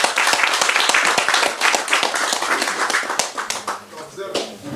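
A crowd claps at an outdoor launch event addressed by a government minister. The sharp, uneven individual claps sound close and ragged, and voices and other noise run underneath.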